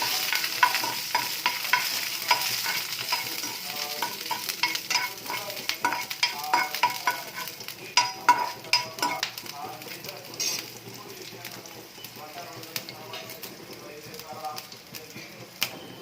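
Chopped green and red chillies sizzle and crackle as they fry in a pan, with stirring and scraping throughout, moderately loud and close.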